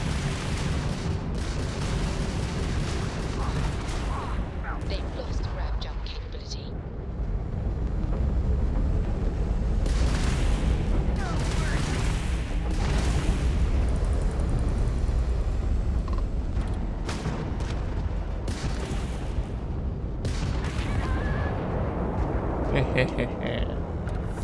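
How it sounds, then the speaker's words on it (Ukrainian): Gunfire and explosions in the Starfield video game, with bursts of shots and blasts rumbling over a continuous loud background of game sound and low noise. "Ти тут по мені стріляєш?"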